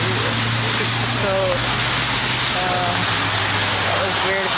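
Steady rain falls outdoors at a gas station in the morning, a continuous broadband wash that stays level throughout, with a low hum underneath and faint voices in the background.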